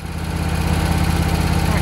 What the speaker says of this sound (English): Just gonna mow this front lawn.